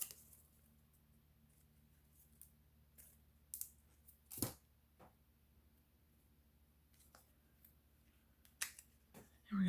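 Scissors trimming card paper for a sunflower card, a few faint, sparse snips and crisp cuts scattered over a quiet background, with one sharper snip near the middle.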